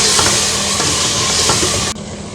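Masala with dried coriander and a little water fries and sizzles loudly in a pan as it is stirred, a dense continuous hiss that drops in level near the end.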